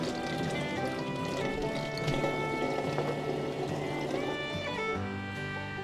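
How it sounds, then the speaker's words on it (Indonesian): Vegetables are washed under a running kitchen tap, a steady continuous stream of water splashing and pattering throughout, fairly loud and close, with no talking. "Memang sih kalau mama cuci sayur itu lebih suka di air mengalir ya."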